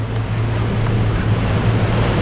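A boat heads upstream against the current on the Isère river, giving a steady low engine drone mixed with rushing water and wind noise, close and continuous with no talking.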